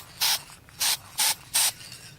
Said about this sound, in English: give this another spray, light spray of the looking glass paint